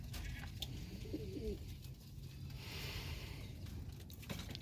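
Domestic pigeons kept in a loft in Qatar give a soft, low cooing that rises briefly once or twice, partly buried under steady background noise.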